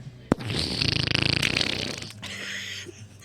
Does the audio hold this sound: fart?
yes